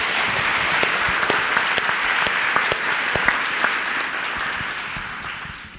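An audience at a church youth event claps in loud, sustained applause, with individual sharp claps standing out from the dense wash before it slowly tapers off.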